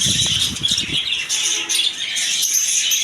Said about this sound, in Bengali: অসংখ্য বাজরিয়া পাখি দেখতেই পারলেন